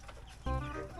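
Chickens cluck close by, a short burst of clucking that starts abruptly halfway through and stays loud to the end.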